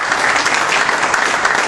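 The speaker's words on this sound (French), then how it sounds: "Merci Georges, je vous demande d'applaudir l'un des plus beaux palmarès que fait la France" Steady, dense applause from an audience at a football signing convention for Sporting Toulon Var and AS Saint-Étienne, loud and close, sustained without pause, with no one speaking over it.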